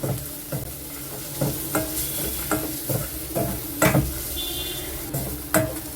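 Rasam spices and asafoetida sauté in a pan for chenna kuni rasam, a low steady sizzle broken by a run of rhythmic spoon scrapes and taps against the metal, close by, with no talk.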